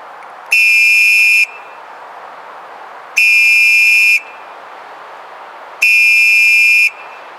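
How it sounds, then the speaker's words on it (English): Three long, loud whistle blasts evenly spaced with pauses between, used as an emergency distress signal, each a steady shrill tone of about one second over faint background hiss. "you want to use a whistle 3 separate blasts in a row with a pause"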